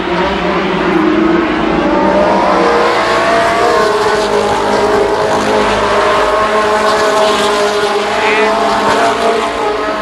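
Race cars roar past loudly and continuously at Columbus Motor Speedway during a 1993 Labor Day championship race, their engines droning and shifting pitch as they jockey for position, with a commentator's voice underneath.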